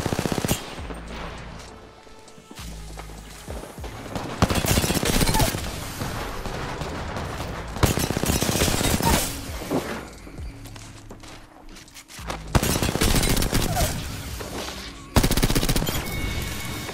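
Rapid automatic gunfire bursts from a shooter video game, loud and close, in several sustained volleys separated by brief pauses, with faint talk underneath.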